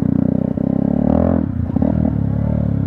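A Yamaha YZF 125 R sport motorcycle lifts into a wheelie over a bump, its engine loud and close with a steady pulsing drone that rises, then breaks into clatter and scraping as it comes down.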